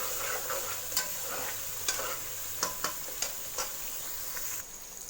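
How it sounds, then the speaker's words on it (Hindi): Qofta curry masala fries on a medium-high flame, giving a steady sizzle broken by sharp spoon scrapes and taps as it is stirred, with no talking. "इसे हमने मीडियम टू हाई फ्लेम पर भूनना है"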